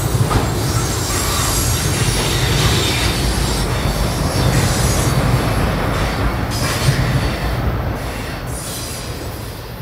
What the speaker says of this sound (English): The rear of the train passes the former Rockwood station